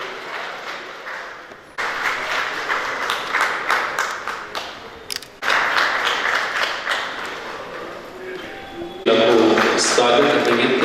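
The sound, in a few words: audience applause at bank annual meeting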